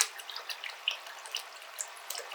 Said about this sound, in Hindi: तो चलो पानी फिल करना चालू करते हैं।